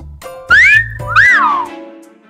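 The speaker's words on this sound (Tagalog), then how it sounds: "Anong pinipito-pito nila?" Boys give two loud, close wolf-whistles at girls, each a bright sliding tone. The second whistle swoops up and then falls, and low rumbling noise sits beneath them.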